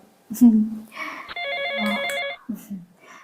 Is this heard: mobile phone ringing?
yes